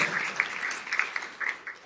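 Church congregation applauding at a sermon, a steady wash of many hands clapping at moderate, fairly distant level with scattered louder claps, and no voices over it.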